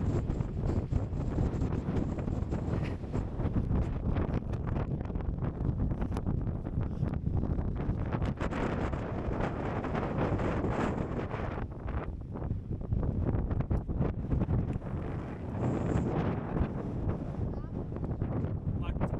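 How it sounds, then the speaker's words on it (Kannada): Strong wind blows hard across an open landscape in Tamil Nadu, buffeting the microphone in a loud, continuous roar for the whole stretch, with voices faintly mixed in. "ಹೆಂಗಿದೆ ಗೊತ್ತಾ ಗಾಳಿ? ಸಾಕಾದಾಗ ಹೊಡಿತಿದೆ."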